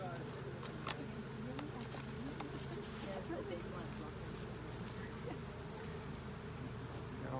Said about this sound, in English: these bees in the jar are going to get angry and put off the alarm pheromones